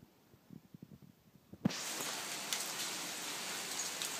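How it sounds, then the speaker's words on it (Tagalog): A few scattered taps give way to a sudden, dense, hissing patter of hailstones striking surfaces, steady and loud until the end. "Umuulan na naman ng yelo."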